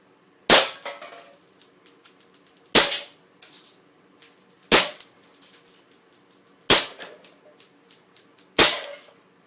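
Five sharp shots from an Ignite Black Ops 1911 Scorpion CO2 airsoft pistol sound at a slow, even pace, each followed by a faint metallic ping and brief rattle as a can is hit, close and loud with quiet gaps between.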